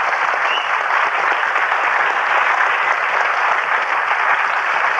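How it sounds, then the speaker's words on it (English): A studio audience at the BBC game show Going for Gold applauds steadily and loudly throughout, a dense sustained wash of clapping with no pause. "please, a warm round of applause for Geir"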